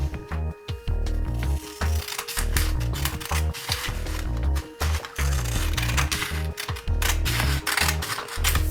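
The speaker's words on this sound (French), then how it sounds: "Prendre mes ciseaux et on va couper sur ce trait tout simplement" Scissors snip paper along a drawn line, a close series of crisp, irregular cutting clicks and rustles.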